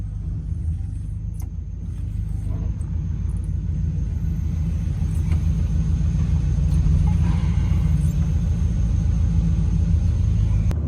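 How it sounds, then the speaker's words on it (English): A 1960 Ghostbusters ECTO-1 car rolls steadily at close range with a heavy low engine rumble as it drives over boxes, and faint crunches and knocks sit above the drone. "Do you want me to drive over those boxes?"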